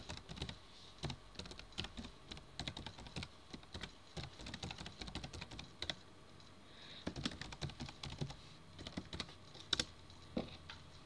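Typing a Gmail username and password on a computer keyboard: quiet, irregular clusters of close key clicks with short pauses, with no talking.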